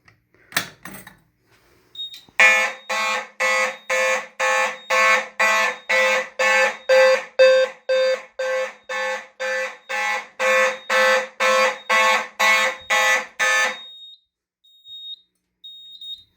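A Simplex T-Bar fire alarm horn blares in a steady train of loud, evenly spaced honks lasting about eleven seconds, then cuts off into near silence.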